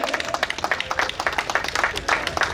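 An audience claps with quick, scattered hand claps at the 5th Tamil Nadu State Senior Traditional Wrestling Championship open weight bout, lively and fairly close, with a voice speaking over it.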